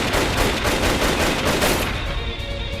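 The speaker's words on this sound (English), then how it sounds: "Bullets whizzed in both directions." Rapid gunfire from the PS4 game 428: Shibuya Scramble rattles in a dense, loud burst of overlapping shots for about two seconds, then thins into a fading ring.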